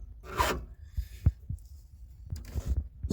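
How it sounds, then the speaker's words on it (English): Hand filing the rakers on a STIHL MS261 chainsaw chain: a few short scraping rasps and light metallic knocks close up, spaced irregularly and fairly quiet, with no voices. "So I'm just filing it down until it's visually flatter."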